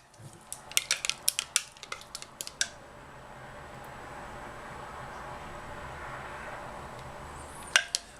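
A spatula clacks and taps sharply against a container of cold process soap batter in a quick burst of hard knocks, then quiet with a faint hum, and one last clack at the end.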